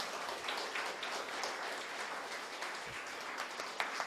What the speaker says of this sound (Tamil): அவர்களுக்கு ஒரு அட்டகாசமான கைத்தட்டலையும் தரலாம்.